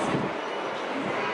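Metro train at a station in Rome, a steady, dense rumble and roar of the railcars filling the space, continuous and fairly close.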